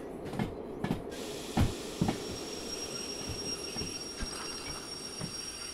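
A railway wagon in Derail Valley rolls slowly onto a siding near a steelworks, giving a faint low rumble broken by soft irregular clunks and knocks from wheels and couplings.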